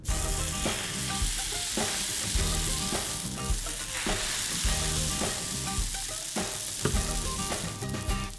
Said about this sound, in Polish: W związku z tym mogę zabierać się za smażenie gofrów.